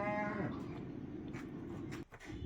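A dairy cow, a six-tooth heifer that recently calved, moos at a cattle sale, one long low call that opens the clip and fades into steady background noise.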